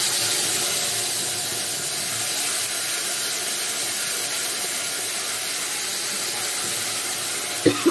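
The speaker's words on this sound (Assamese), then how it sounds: "এতিয়া এইখিনি পেষ্টখিনি মই তেলত দি দিম।" A paste sizzles in hot oil in a pan, a steady close hissing spatter that holds evenly throughout, with a small knock right at the end.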